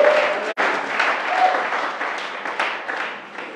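A church congregation breaks into sustained applause, a dense wash of clapping that briefly cuts out once and then carries on, loud and even throughout.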